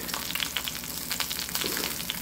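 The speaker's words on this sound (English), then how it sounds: "that's bacon fat or bacon drippings that it's frying in" An Angus Platinum beef steak sizzles and crackles steadily as it fries in bacon fat in a pan, with a dense continuous hiss and scattered pops, close up with no talking.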